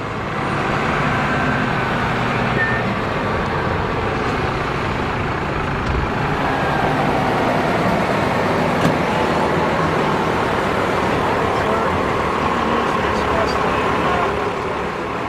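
A bus at a bus show drives into the display area and parks in its spot. A loud, steady engine and road rumble carries on without a break for the whole stretch.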